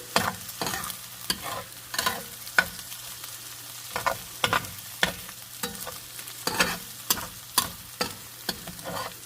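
Egg is mashed and fried in a pan for street-style egg fried rice, with a steady quiet sizzle broken by repeated rhythmic scrapes and taps of a spatula against the pan, close up and with no talking.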